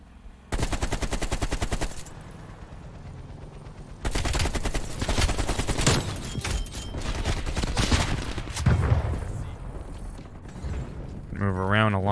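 AK rifle fire in a video game, two long full-auto bursts of rapid, evenly spaced shots, close and loud, with quieter game ambience between and a short whirring effect at the end.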